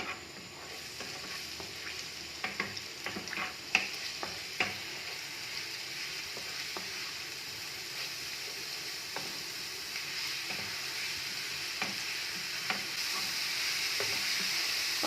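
Garlic fries in about two tablespoons of oil in a pan, a steady close sizzle broken by spoon scrapes and stirring clicks, with no talk.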